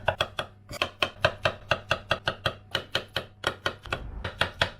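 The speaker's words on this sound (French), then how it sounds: "Et après on va les émincer." Mushrooms being sliced with a knife on a cutting board, a quick steady run of about twenty crisp chops close by, evenly spaced with a brief pause near the end.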